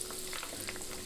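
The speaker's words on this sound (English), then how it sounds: "you should hear a little bit of a sizzle" A brief burst of hot-oil sizzling as a pounded pork cutlet goes into the pan, soft crackles and pops, close and steady, no speech.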